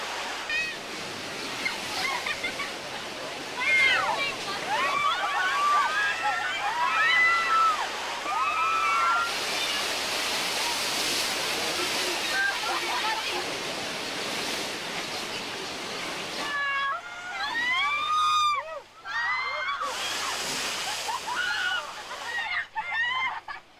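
Rushing water and splashing from the Bigfoot Rapids river-raft ride at Knott's Berry Farm, a steady broad wash of surf-like noise with brighter surges, while voices and shrieks rise over it throughout.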